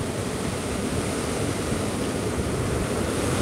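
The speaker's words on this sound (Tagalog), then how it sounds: "Yan, naglalaki ang alon po." Large storm waves from the Lagonoy Gulf, off the Pacific during Typhoon Opong in Bicol, with heavy rain falling, roar as a steady, dense broadband wash with no distinct breaks, loud and continuous throughout.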